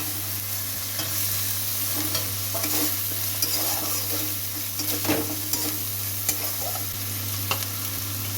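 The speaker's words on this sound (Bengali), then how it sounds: "আমার মশলা সুন্দর করে লাল লাল করে ভাজা হয়ে গেছে এখন আমি টমেটো দিয়ে দিলাম" Spice paste and tomato fry in a pan for a spicy Bengali fish dish, with frequent scraping stir strokes over a steady moderate sizzle and a low constant hum beneath, no speech.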